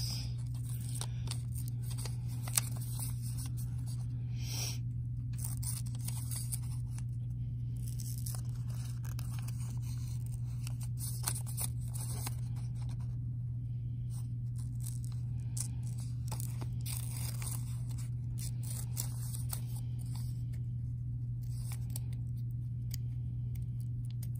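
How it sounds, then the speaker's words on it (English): Small scissors cutting a tiny paper house out for a collage make a quiet, close series of crisp snips and paper crinkles, spaced irregularly over a constant low electrical hum. "Do my little wavy scissor trick there."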